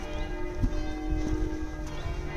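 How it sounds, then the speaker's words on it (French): Church bells ring out in Metz, a steady sustained peal of tones carrying over city street ambience, with occasional low thumps and knocks nearby; no one speaks. "Il y a les cloches qui sonnent."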